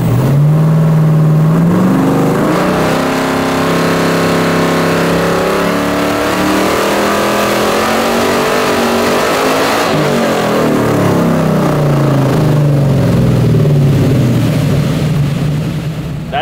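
A 7.50-index Z/28 Camaro roars on a hub dyno, its engine revving hard and loud for the whole stretch, pitch climbing, levelling off and rising again, with no speech over it.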